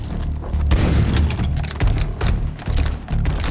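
Boomstick fired in the video game Warhammer 40,000: Shootas, Blood & Teef, heavy booming blasts repeating in quick succession, loud and close with dense rumbling low end and no voice over them.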